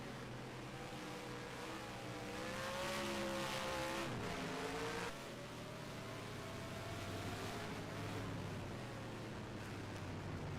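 Race cars in NASCAR Racing 2003 at Infineon Raceway drone past one after another, their engine pitches sliding up and down as they sweep by, with a louder close pass around the middle over steady engine noise.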